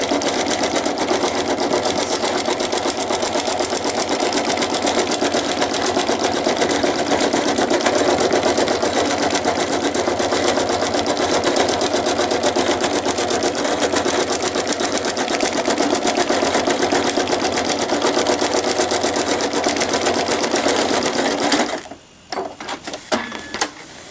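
A sewing machine stitches fabric, its needle hammering in a fast, steady, loud drone that runs unbroken for over twenty seconds before abruptly stopping, followed by a few faint handling knocks.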